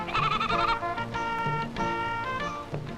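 A goat bleats loudly and close by in several wavering, nasal cries that run nearly back to back, with a clear harmonic tone and short breaks between calls.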